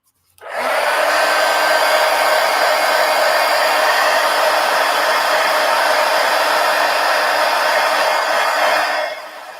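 A hair dryer blows steadily on wet paint on a mixed media art journal page, a loud, even broadband whoosh that starts abruptly and runs unbroken for about nine seconds before cutting off, with no talking.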